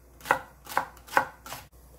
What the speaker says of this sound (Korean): 청양고추 3개 송송, 홍고추도 1개 송송 썰어줄게요